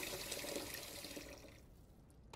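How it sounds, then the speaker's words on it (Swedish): Water runs steadily into a bucket, a broad rushing flow that stays fairly even before thinning and quieting toward the end, close by with no voices. "De började med att fylla vatten i en hink."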